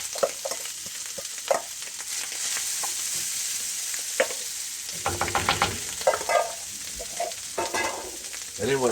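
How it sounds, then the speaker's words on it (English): Cooked rice is tipped into a hot pan and stirred, so a busy frying sizzle runs under irregular scrapes and clatter from the utensil working through the grains. "take all that rice and dump it in"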